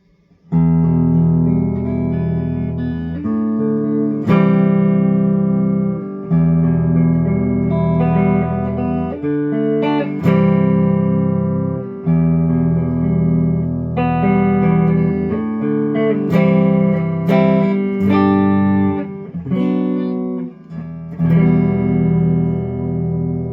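Clean electric guitar on the neck pickup played alone, warm and rounded, with strummed chords and picked notes ringing out in a steady, close-up phrase.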